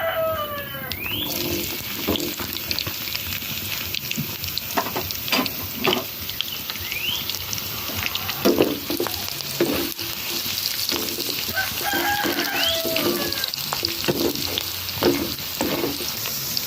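Onion frying in oil in a pan for red tortillas with egg, a continuous crackling sizzle punctuated by repeated scrapes and stirs of a utensil, close and steady throughout, with a bird chirping faintly in the background and no speech.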